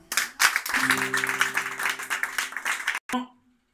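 Church congregation applause with rapid clapping and shouting voices mixed in, lively and fairly close, breaking off abruptly near the end followed by a brief final burst and silence.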